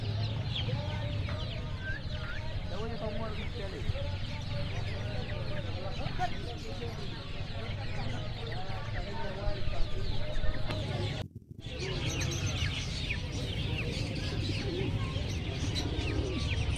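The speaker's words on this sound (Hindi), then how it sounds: "तो माशाल्लाह बहुत खूबसूरत छोटे छोटे चिक्स हैं।" Chickens, roosters and small chicks cluck and cheep continuously at a bustling poultry market in Quetta's vegetable market, a dense busy chorus with a person talking throughout.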